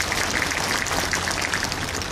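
Continuous applause from a crowd at an outdoor Buddhist culture festival in Busan Citizens Park, dense and steady throughout like rainfall, fairly loud with no speech over it.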